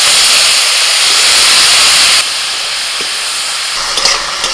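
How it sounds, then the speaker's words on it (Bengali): Bay leaf, a dry chili, nigella seeds and water lily stems hitting hot oil in a karahi, a loud broad hiss that drops to a steadier sizzle midway, with a few sharp crackles and pops near the end. "কড়াইতে যে তেল আছে ওর মধ্যে ফোড়নে দিচ্ছি একটা তেজপাতা, একটা শুকনো লঙ্কা, অল্প একটু কালো জিরে"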